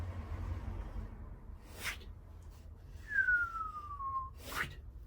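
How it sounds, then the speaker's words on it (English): A single soft whistled note glides gently downward, fairly faint and close, with a couple of quiet swishes around it. "Always helps to do the whistle."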